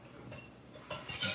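A kitchen knife slices through food onto a cutting board in three or four crisp, close strokes, each a short bright scrape-and-tap, the last the loudest.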